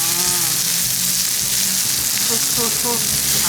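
Steady, loud sizzling of food frying on a very hot grill pan at a Thai pork barbecue buffet fills the clip, with faint clinks and brief voices underneath.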